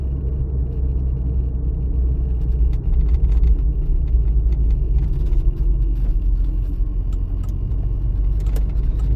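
A car drives along a city street during a driving test, with a steady loud low engine and road rumble inside the cabin and faint small rattles over it, no talking.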